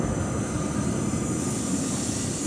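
Bullet train with a top speed around 285 km/h, heard as a steady, loud rushing roar of rail noise with no pauses.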